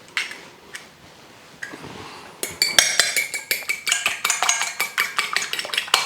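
A single egg is whisked for egg wash in a bowl, starting with a few light taps, then settling into a fast, steady run of close metallic clinks with no talking.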